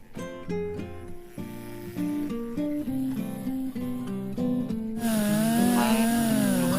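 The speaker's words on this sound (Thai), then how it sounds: "เลื่อยที่ผมใช้ก็คือ ของสติลนะครับ M S หนึ่งแปดศูนย์นะครับ" A Stihl MS 180 chainsaw engine revs and strains in rising and falling bursts, then settles into a steady, louder whine as it bites into eucalyptus wood nearby.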